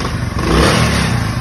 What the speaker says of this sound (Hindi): ये इसके इंजन की आवाज़ है।